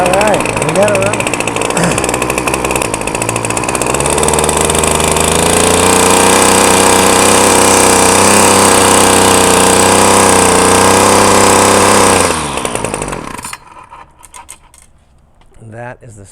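Weed wacker two-stroke engine running after a trigger repair, a loud, steady buzzing whine that holds for about twelve seconds, then cuts off abruptly into near silence with faint handling noises.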